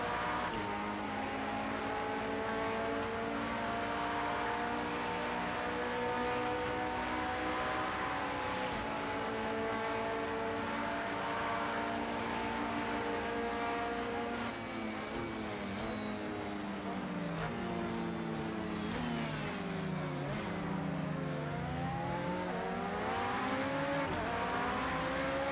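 Engine of a Porsche 919 Hybrid race car at Le Mans in Project Cars 2, a steady high-pitched whine that rises and falls through gear changes and stays loud throughout.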